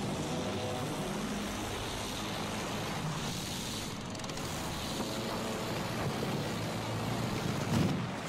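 An enemy fighter plane in Battlefield 1 drones steadily overhead amid dense battlefield noise, its engine roar continuous and fairly loud across the whole stretch, with a brief louder swell near the end.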